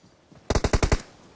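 A rapid burst of about six loud gunshots from a PUBG Mobile match, spaced evenly over half a second, rising sharply out of quiet game ambience and then trailing off.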